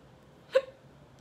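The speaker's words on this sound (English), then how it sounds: "I always have the hiccups." A single soft, short hiccup from a woman sounds faintly in a quiet indoor room, alone and brief.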